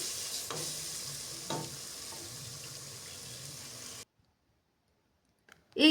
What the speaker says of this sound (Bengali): এই তো মশলা কষানো হয়ে গেছে।